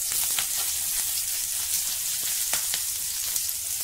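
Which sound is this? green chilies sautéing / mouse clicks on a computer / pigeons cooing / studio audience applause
green chilies sautéing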